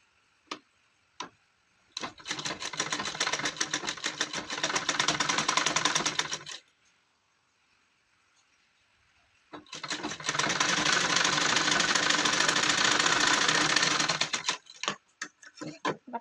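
A sewing machine stitches two pieces of cloth for a small child's gown in two long steady runs of rapid mechanical clatter, with a pause between them and a few isolated clicks before and after.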